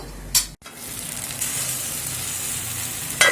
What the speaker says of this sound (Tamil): அது ஒரு 2 நிமிஷம் வதங்கட்டும்